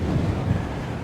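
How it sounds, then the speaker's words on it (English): Strong gusts buffet an outdoor microphone on a rocky trail ride with a Yamaha Moto 07, a dense low rumble that stays steady and loud throughout with no voices. "It's windy. It's pretty strong."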